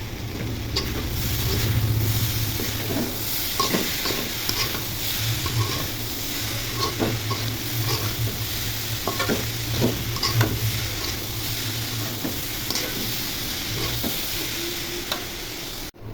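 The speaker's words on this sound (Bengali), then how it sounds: "ভাজিটা একটু নেড়ে চেড়ে দিই" Potato and pointed gourd bhaji stirred in a frying pan, a continuous close sizzle punctuated by repeated scraping strokes of the spatula throughout, with no voices.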